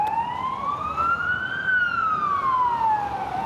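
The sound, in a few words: passing car siren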